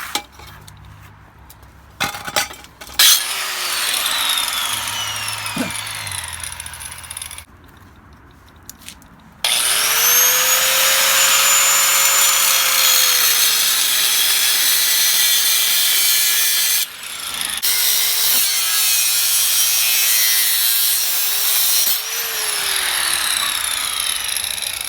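Exhaust pipe on a Nissan 350Z being cut with a power saw, a loud close whining cut that rises and drops in pitch, with shorter bursts and pauses before one long sustained pass.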